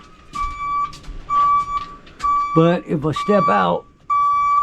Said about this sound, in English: I don't know if you can hear it, but that's my reverse alarm.